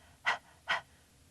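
Two quick, forceful breaths pushed out like a panting dog, part of a fast purification breathing exercise, each a short sharp gust close to the mic in an otherwise quiet room.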